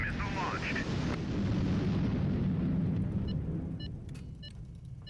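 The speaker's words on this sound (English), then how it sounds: "Missile launched." Missile launch and explosion in the video game Highfleet: a loud roaring rush that swells and holds, then fades into quieter game clicks and tones, with a voice speaking over it.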